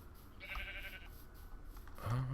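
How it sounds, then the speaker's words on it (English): Sheep in a Minecraft-style video game bleat twice, a short bleat early and another at the end, set over quiet game background noise. "Lots of sheep."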